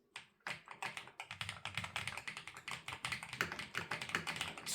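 Keys clack on an ATK RS7 Air budget magnetic keyboard in a quick, uneven burst of close, crisp clicks with a soft thock underneath, typed steadily for several seconds with no voice.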